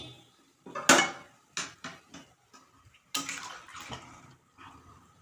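Milk thinned with a little water is poured into a pot of softened, boiled eggplant for dudh shukto, a Bengali vegetable dish: a few short splashing bursts and clinks close by, separated by quiet gaps.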